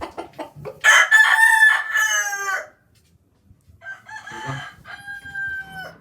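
Fighting gamecocks on a breeding farm crow loudly and nearby, with one long strained crow followed after a pause by another, plus short clucks before and between.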